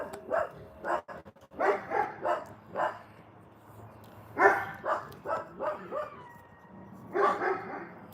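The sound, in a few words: coyotes howling or someone imitating coyotes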